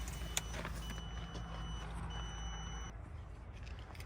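A faint electronic warning tone beeps from a New Holland crawler tractor over its low idling engine hum, fairly quiet and steady.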